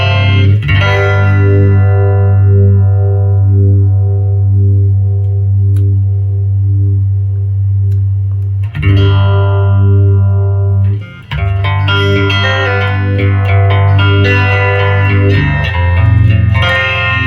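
A sustained electric guitar chord swirls through a sweeping phaser effect from a 1974 MXR Phase 45 pedal, followed by a few more strummed chords and picked notes with the same whooshing modulation.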